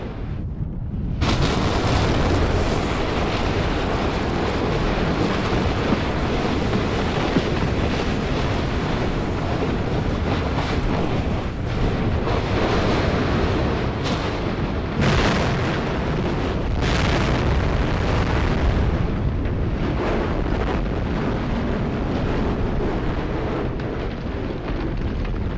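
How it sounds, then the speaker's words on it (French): Continuous, loud, rumbling roar of an erupting volcano in Vanuatu, with heavy wind buffeting the microphone and repeated deep detonations swelling through the dense noise, no voices. "Vous avez l'air qui vibre en même temps qu'il y a le bruit de la détonation qui souvent est très très fort."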